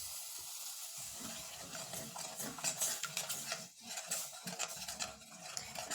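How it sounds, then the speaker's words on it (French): Béchamel of milk, flour and butter whisked and stirred in a pan, with steady scraping and clinking of the utensil against metal over a soft hiss, continuous and close. "Et je vais touiller."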